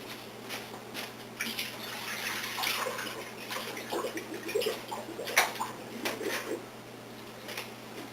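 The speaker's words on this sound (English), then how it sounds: "I'm going to go ahead and drain it." Salted brine water drains from large chicken breasts in a kitchen, a faint, steady trickle and splash with scattered small drips, running continuously without talk.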